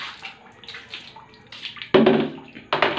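Tap water runs and splashes during early-morning laundry at home, with bursts of strong gushing flow between quieter trickling and dripping moments, close by.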